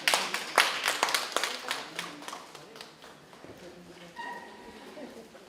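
Audience at a commemorative event clapping in a short run of sharp, fairly close claps that dwindle to scattered ones, while voices carry on underneath.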